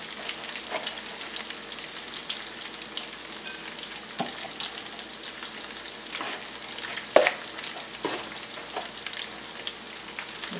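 Steady sizzle of breaded cauliflower frying, with faint crackles and pops, continuous for the whole span, with no talking.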